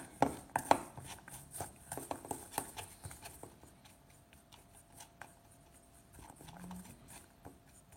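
A spoon scraping and tapping against coated fishing pellets to loosen them, a burst of close, sharp clicks and scrapes at first that thins into sparse, fainter scrapes.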